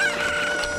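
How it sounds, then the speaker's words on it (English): Chickens cluck and a rooster crows in The Legend of Zelda: Ocarina of Time, a steady run of bright, synthesized fowl calls layered over game ambience, continuous and fairly loud with no talking. "I've never had this much trouble getting the chickens before"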